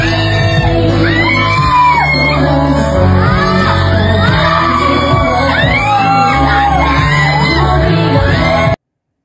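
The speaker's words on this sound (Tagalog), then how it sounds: "marinig ang hiyawan ng mga kaibigan nila na talagang kinikilig sa kanilang dalawa" Friends scream, whoop and cheer excitedly at Belle Mariano's birthday celebration, a loud, continuous crowd of high-pitched shrieks and yells over music, rising and falling in bursts throughout.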